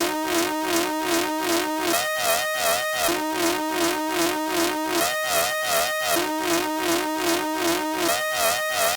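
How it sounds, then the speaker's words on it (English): A bright synth loops a short, repetitive note pattern at a steady bouncy tempo, layered over pulsing beats, alone with no voices. "the next thing I kind of added was this like synth sequence"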